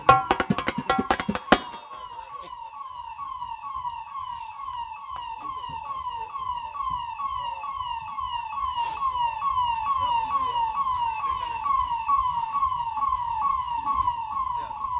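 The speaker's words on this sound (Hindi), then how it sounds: "ये एम्बुलेंस" An ambulance siren wails steadily and continuously, fairly close, with a low rumble of traffic underneath and a brief clatter at the start.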